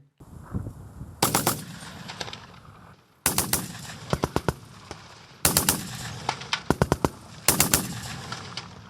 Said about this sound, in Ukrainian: бійці 115-ї бригади відпрацьовують свою майстерність з пострілів з кулемету Браунінг